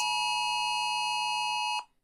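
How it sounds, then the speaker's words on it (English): A UK government emergency alert test sounds on a phone: a loud, steady electronic tone with harsh harmonics holds for under two seconds, then cuts off abruptly into silence. "you'd have had a 10-second siren and this test message"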